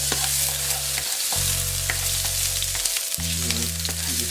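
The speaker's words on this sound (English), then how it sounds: "I'm going to add chopped onion first" Chopped onion sizzling in a hot pan for curry coconut lobster tail, a steady close frying hiss with occasional stirring scrapes, no voices.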